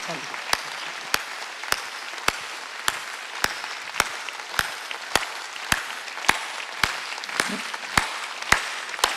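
Congregation in a church sermon clapping in a slow, regular beat, sharp evenly spaced claps roughly every half second over a faint room background, moderately loud and unaccompanied by other sound.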